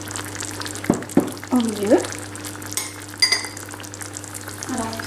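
Egg dropped into a hot tajine and frying, a steady soft sizzle with a few clinks of a utensil, and someone speaking briefly over it.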